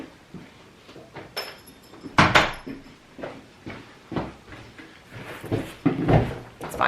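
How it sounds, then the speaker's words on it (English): A house door swung shut after a large bumblebee gets in, landing as a firm thud near the middle, with handling knocks and soft rustles before and after. "Let me shut the door."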